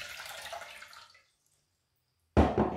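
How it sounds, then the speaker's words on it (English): Water splashes and trickles into a cooking pot, a short pour that fades out, followed after a pause by a brief louder splash. "I'm going to put half a liter of water"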